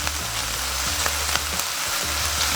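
Garlic sizzles loudly in a pan alongside browning beef for keto beef and broccoli, a steady crackling fry close up with faint stirring and no voices.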